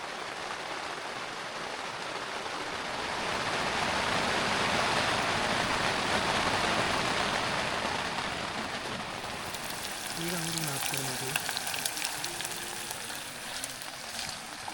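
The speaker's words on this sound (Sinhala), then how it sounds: "ඒක වැස්ස නවතින පාටක් නෑ" Heavy rain drums down on a mountain campsite at Queena Mountain at night, a loud, continuous wash of noise that swells midway. A voice briefly speaks over it.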